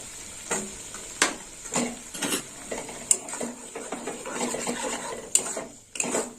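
Cashew paste is stirred into an okra curry frying in a pan, with a soft sizzle under repeated close scrapes and clinks of a spoon against the pan at an irregular rhythm.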